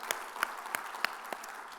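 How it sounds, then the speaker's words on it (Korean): A church congregation applauding, a faint, distant patter of clapping with a few sharper claps standing out, no talk. "하나님께 영광의 박수 돌립니다"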